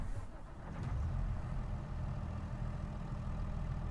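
A Deutz Fahr Serie 9 tractor engine in Farming Simulator 22 starts and settles into a steady low rumbling idle, close and continuous.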